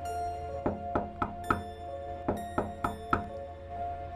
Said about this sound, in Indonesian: Lagi-lagi terdengar suara ketukan di pintu depan.